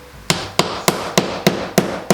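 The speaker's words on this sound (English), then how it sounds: "when you're hammering really light paneling" Hammer blows on light paneling during a garage stage build: seven sharp, evenly spaced strikes about a third of a second apart. Each hit rings briefly and is close and loud over a faint background.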